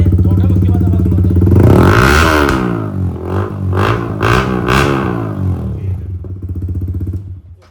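A Yamaha R15 V4 motorcycle fitted with an aftermarket Arrow exhaust idles with a throaty burble, then rises in a loud rev and blips several more times before settling back to a pulsing idle, close to the exhaust.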